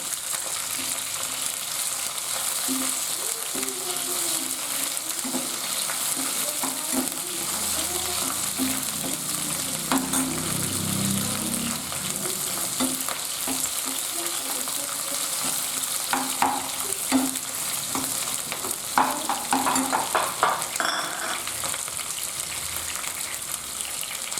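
Capsicum stir-fried in a pan for Mysore bisi bele bath, giving a steady sizzle throughout with scraping stirs and clinks of a spatula, loudest toward the end.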